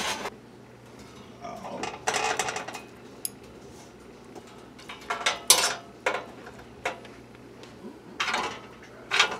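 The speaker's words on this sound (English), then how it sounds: "I'm going to put them on my broiler pan and broil them." Cooked food being set down onto a metal broiler pan, with several bright clinks and scrapes of metal and utensils at irregular intervals over a low steady hum, close and moderately loud.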